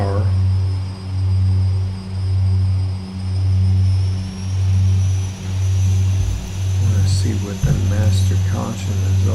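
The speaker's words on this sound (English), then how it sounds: "Need to bring our props to full speed so that we can have a good landing." A propeller aircraft engine on landing approach, the props brought to full speed, gives a loud, steady drone with a rhythmic pulsing throb about once a second. A voice talks over it near the end.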